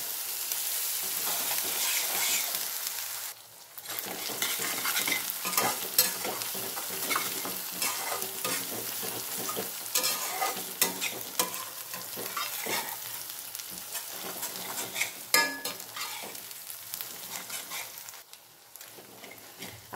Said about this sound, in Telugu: అల్లం వెల్లుల్లి పేస్ట్ మంచిగా ఫ్రై అయింది